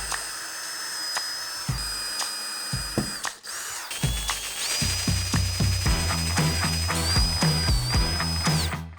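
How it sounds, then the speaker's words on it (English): A power drill bores a 3/8 inch hole into wood: short bursts of the motor give way to a sustained whine with rapid rhythmic ratcheting clicks, loud and close, without any talking. "I'm drilling a 3/8 inch hole here on top of the one I just drilled for my screws"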